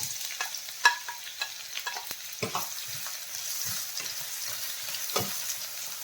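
Chopped onion with crushed ginger and garlic sizzles softly in hot oil in a pan, with a low steady fry hiss broken by occasional spatula scrapes and stirring knocks, close and with no talk.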